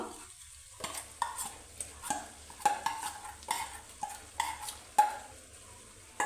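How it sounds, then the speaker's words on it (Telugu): Masala frying with stuffed eggplant for a curry: a soft sizzle runs under repeated scraping and stirring strokes of a spoon against the pan, close up, with no voices. "ఈ మసాలాని కూడా బాగా మొగ్గించుకుందాము"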